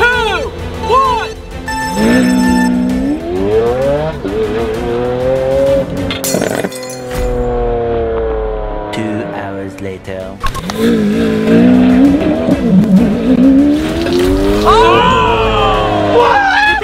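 The world's fastest car launches hard to yank a tablecloth from a table, its engine roaring loudly with rising revs and squealing tires, while people talk and shout excitedly throughout.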